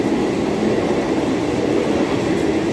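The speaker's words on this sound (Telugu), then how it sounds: "సో ఇది గోదాన్ ఎక్స్ప్రెస్." A Godan Express passenger train rolls past on a Mumbai local route, a steady, loud rumble of wheels and carriages filling the whole stretch with no voices.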